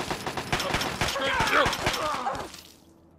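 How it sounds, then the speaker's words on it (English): Fallout 3 video game gunfire: a fast, loud run of crackling shots with a shattering edge, close up, tapering off into near silence at the end, with voices mixed in. "who's still shooting me"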